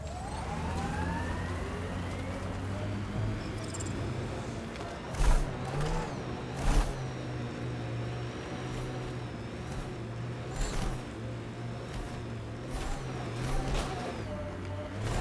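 A car in Mass Effect Andromeda drives with a steady low engine drone and layered humming tones, broken by a few short louder knocks and bumps, with no talk.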